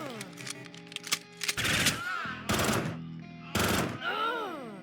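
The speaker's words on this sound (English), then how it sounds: "Good news, nail guns cannot aim for anything." Nail gun fire in the turn-based shooter Quasimorph, a rapid clatter of sharp shots in several bursts mixed with game sound effects and tonal sweeps, close and busy.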